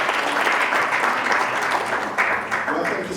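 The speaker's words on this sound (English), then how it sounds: "Round of applause for Dr. Kariuki." A room full of people at a local government conference claps steadily, a dense and even burst of applause that carries on without talk.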